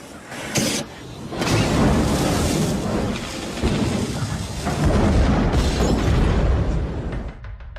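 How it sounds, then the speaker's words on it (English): A car bomb explosion engulfs a 1983 Eldorado in a fireball: a loud, sustained rumbling roar of blast and burning that surges and fades over several seconds, with no talking. "the real-life mobster Frank Lefty Rosenthal, climbs into his 1983 Eldorado, turns on the ignition, and is engulfed in a fireball"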